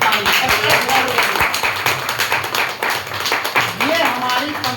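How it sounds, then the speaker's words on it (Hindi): Hands clap at a company income presentation, a crowd of sharp, uneven claps near the microphone mixed with background voices and murmuring. "जोर से बजा दो सब ताली।"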